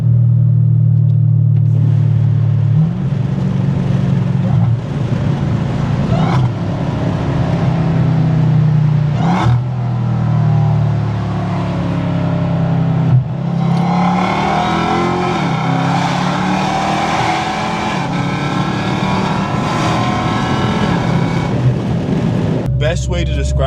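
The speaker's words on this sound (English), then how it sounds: "let's hear the symphony of the low downshift" Supercharged Dodge Charger Hellcat sedan engine revving and rumbling through a low-gear downshift, a loud, sustained roar with deep low-end growl, rising and falling bursts, and sharp blips near the middle.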